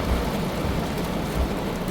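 A storm brings steady heavy rain hissing down loudly and evenly, with a couple of soft low rumbles of thunder beneath it.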